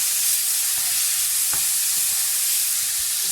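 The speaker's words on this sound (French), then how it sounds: "je mets juste un peu d'eau pour faire mijoter un peu les épices" Spices simmering in a pan with a little water and plenty of pepper, giving a steady, moderately loud sizzle and hiss with a few faint stirring knocks, and no voices.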